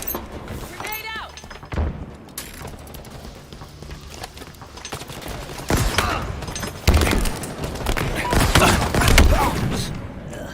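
A grenade thrown in a Halo ranked match goes off with deep thumps amid rapid gunfire and explosions, voices talking over the loud, dense battle noise.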